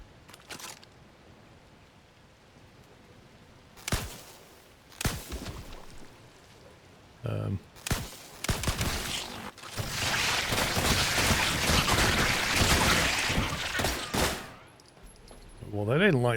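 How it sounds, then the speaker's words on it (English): Gunfire in the video game The Last Caretaker: several separate sharp shots, then a burst of dense rapid fire lasting a few seconds, with quieter gaps between. "Let's have a look if we can shoot it."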